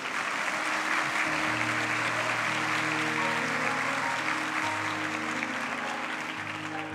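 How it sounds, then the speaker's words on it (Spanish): Steady crowd applause fills a university graduation ceremony hall, broad and continuous, with a sustained musical tone playing underneath throughout. "Otro aplauso, por favor."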